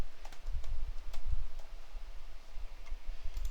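An email address is typed on a computer keyboard: quick, close key clicks in irregular bursts with short pauses, steady and moderately loud, with no one talking.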